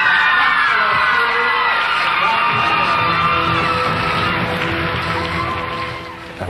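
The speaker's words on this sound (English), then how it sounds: "A big round of applause on stage, our world champion." A large crowd cheers, yells and whoops loudly and continuously as a world champion dancer appears on stage, the roar sustained throughout before easing slightly near the end.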